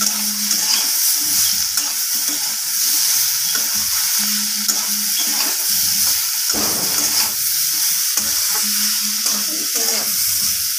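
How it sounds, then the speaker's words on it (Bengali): Vegetables with ginger and salt are stir-fried for a spinach dish, making a loud, steady sizzle and hiss with repeated scraping stirs up close. "আদা আর লবণটাকে দিয়ে সব কিছু সবজির সাথে আবারও আমি নাড়িয়ে চাড়িয়ে কষিয়ে"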